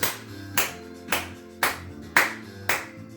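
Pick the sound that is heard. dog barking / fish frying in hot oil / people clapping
people clapping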